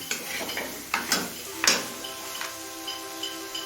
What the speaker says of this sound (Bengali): মাছের মাথা দিয়ে মশলার সাথে মিনিট দিয়ে কষিয়ে নিলাম